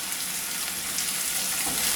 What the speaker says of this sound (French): Ensuite, je mets le beurre.